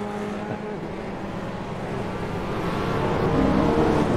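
Formula Renault race cars roaring around a circuit on a rallycross-like track, a continuous engine drone that swells steadily louder toward the end, heard from the trackside without talk.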